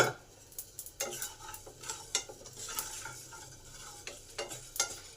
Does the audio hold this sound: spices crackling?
yes